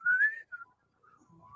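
A person whistles a few short, wavering tones close by, with brief pauses between the phrases and faint low background noise.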